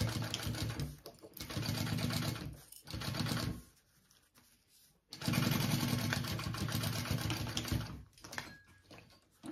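A sewing machine bastes two fabric pieces right sides together for a tote bag, running in fast rattling bursts with short pauses between stitching runs, close and steady.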